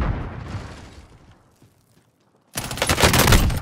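Gunfire in a first-person shooter match: rumbling shots and blasts fade into near silence, then a loud, dense burst of rapid fire erupts and continues to the end.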